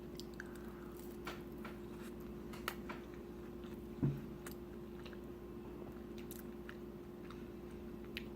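Someone quietly chews a cauliflower grilled cheese, giving soft, faint bites and squishy mastication sounds at close range, with one sharper bite partway through.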